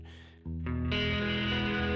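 A Dark Star Stereo reverb pedal set toward a delay-like reverb sound, with a sustained, dense tone swelling in after a quiet start and ringing on loud and steady.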